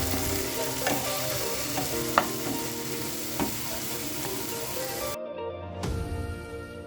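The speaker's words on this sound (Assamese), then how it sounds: "দি পেলাই ভালকৈ ছটে কৰি ল'ম যাতে গোটেইখিনি ধুনীয়াকৈ মিলি যায়" Ginger garlic paste sizzles and fries steadily in a pan for dhaba-style chicken masala, with a few sharp stirring clicks and scrapes, then a brief pause before the frying sizzle resumes close by.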